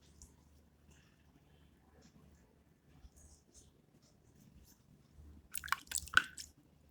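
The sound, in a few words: massaging face with water to remove dried face pack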